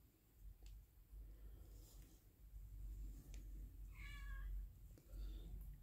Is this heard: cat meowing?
yes